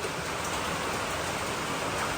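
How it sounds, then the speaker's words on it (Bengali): Steady rain falling outdoors in a rural home yard among vegetable plants, a dense, even wash of hiss that continues without a break and with no voices. "আবার বৃষ্টি আসলো।"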